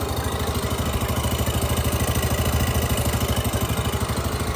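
A Yamaha Mio MXi 125 motorcycle engine idles just after an engine refresh, a steady close, even mechanical putter with a fast regular pulse throughout and no talking.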